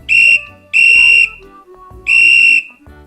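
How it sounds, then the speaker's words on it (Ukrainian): A shrill whistle is blown three times in short, loud blasts with brief pauses between them. "Ось, будь ласка, ось твій свисток."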